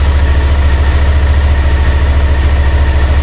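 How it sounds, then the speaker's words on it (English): A Suzuki V-Strom DL650 motorcycle engine idles steadily and loudly at close range, a continuous low rumble with no change in pace. "Start the bike up"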